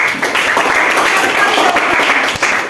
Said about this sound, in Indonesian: Beri tepuk tangan buat temannya ya